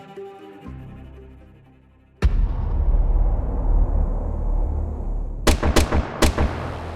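A sudden loud gunshot booms and rings out with a long echoing tail, followed by a quick cluster of three more sharp shots, after a quiet musical intro.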